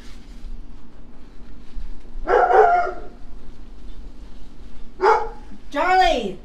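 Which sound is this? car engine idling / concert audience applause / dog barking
dog barking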